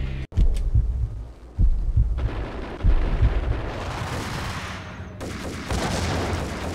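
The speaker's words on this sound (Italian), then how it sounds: "Ho sparato tutti i colpi che avevo su vetro antiproiettili." Rapid bursts of video game gunfire hitting bulletproof glass in Max Payne, sharp impacts and crackling hits, loud and close, continuing in a dense rattling stream over a rumbling background.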